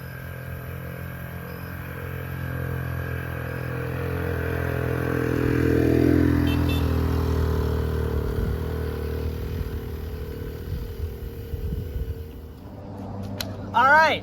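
A Honda Helix moped engine runs steadily while being ridden, a low droning hum that swells toward the middle, with clattering and scraping near the end and a voice briefly at the close.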